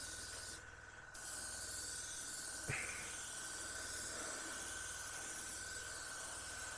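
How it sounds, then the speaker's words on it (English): An airbrush driven by a compressor at about 20 psi sprays paint in steady, even passes over a scale model, giving a continuous soft hiss with a brief sharper burst partway through. "Just spray nice even coats."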